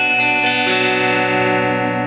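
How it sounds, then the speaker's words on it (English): Fender Deluxe Stratocaster, 1998–99, with pickups in the middle position, plays a sustained distorted lead through heavy effects, loud and close, notes ringing into each other with no voices. "Switch over to distortion, do some leads."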